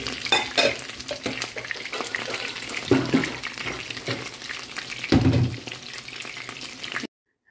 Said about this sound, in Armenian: Խնդրեմ աղջիկներս արդեն տապակում եմ